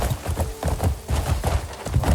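A horse's hooves clip-clop steadily over rough, steep ground in the video game Crimson Desert, moderately loud and near, with no talking.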